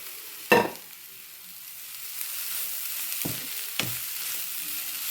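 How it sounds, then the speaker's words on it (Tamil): Ingredients being sautéed in a pan, a steady soft sizzle broken by three sharp scraping strokes of a spoon, the first loudest, with no talking. "எல்லாத்தையும் சேர்த்து வதக்கணும்"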